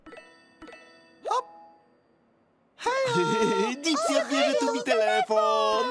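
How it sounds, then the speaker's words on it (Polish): Teletubbies' Tubby phone rings with a bright chiming jingle of tinkling tones, a few short dings first and then a loud, sustained melodic ringing that fills the rest of the clip. "Dipsy odbierze Tubi telefon."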